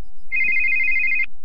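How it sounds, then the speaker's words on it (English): Cell phone ringtone going off during a wrestling event announcement: one loud, close, sustained high electronic tone lasting about a second, with no talk over it. "his cell phone's going off"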